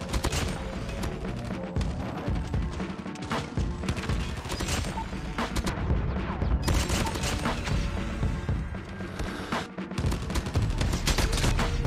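Rapid SMG gunfire from the mobile shooter Call of Duty Mobile on the Shipment map, fired from the hip with no attachments, crackles in dense bursts almost continuously with brief pauses, loud and close.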